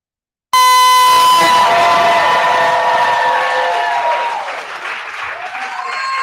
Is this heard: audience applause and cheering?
yes